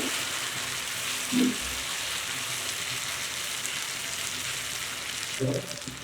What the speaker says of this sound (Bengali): খুব ভালোভাবে নেড়ে ফেড়ে নিচ্ছি মশলাগুলো সাথে চিকেন